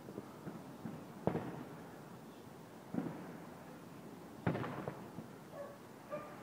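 Fireworks bursting at a Fourth of July wedding celebration, with a few sharp booming pops spaced a second or two apart over a noisy outdoor background, moderately distant and no talk.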